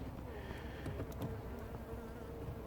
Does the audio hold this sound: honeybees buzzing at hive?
yes